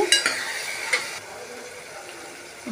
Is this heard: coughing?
no